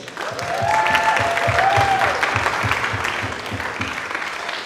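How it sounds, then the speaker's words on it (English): An audience at a 2017 high school movie festival applauds in a steady, dense burst of clapping that swells in the first second and stays full before easing slightly, with a few faint whistle-like tones riding over it. "All right, another round of applause, please."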